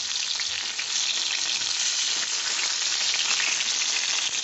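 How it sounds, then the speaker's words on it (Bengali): Eggplant pieces fry in hot oil with a steady, dense sizzle that holds at a constant level for the whole stretch. No one speaks over it. "এবার হয়ে গেছে ভাজা, বেগুনগুলো অনেক নরম হয়ে এসছে"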